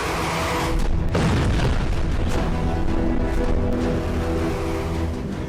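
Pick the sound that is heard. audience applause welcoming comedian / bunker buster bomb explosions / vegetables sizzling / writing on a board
bunker buster bomb explosions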